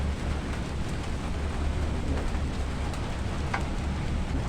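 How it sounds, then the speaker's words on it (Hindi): Light drizzle falls outdoors over garden flowers, a steady, even hiss of fine rain with a low rumbling background and no talking. "बूंदाबांदी होने लगी है। रात में भी हुई थी बारिश, बूंदाबांदी और अभी हो रही है।"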